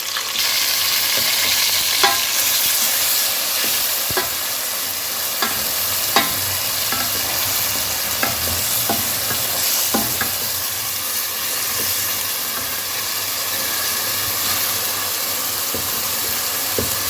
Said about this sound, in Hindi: इसे थोड़ा सा भूनूंगी।